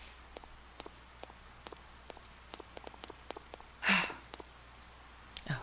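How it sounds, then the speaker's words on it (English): Rain falling in the video game Persona 4, a soft steady patter with scattered individual drops tapping throughout, plus one brief louder rustling burst near the end. "And it's raining today."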